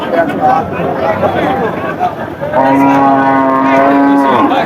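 A cow of the Poras breed lets out a long, loud moo after a few seconds of nearby chatter and background noise at a cattle market.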